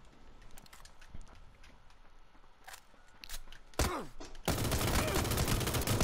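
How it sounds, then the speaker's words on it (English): Gunfire in the battle royale game PUBG, a scatter of faint distant shots followed by a loud close burst of rapid fire that keeps going to the end. "somebody's shooting me"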